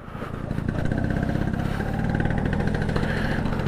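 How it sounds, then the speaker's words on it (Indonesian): Vespa scooter engine running continuously while riding, a close, steady buzzing drone with a slight rise in revs near the start and no talk. "kita mencoba jalan-jalan sore naik Vespa John"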